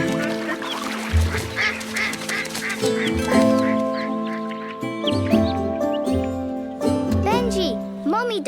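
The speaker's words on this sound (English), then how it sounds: "Benji, Mummy Duck's just flown away, and she's left the ducklings behind." Ducks quack and honk repeatedly over background music and a speaking voice in a children's TV show, with bursts of calls scattered throughout.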